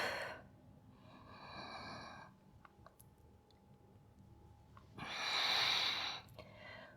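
Slow, audible breaths during surf yoga hand stand prep training, a long airy inhale followed after a quiet stretch by a stronger, louder exhale, close to the microphone with faint clicks between.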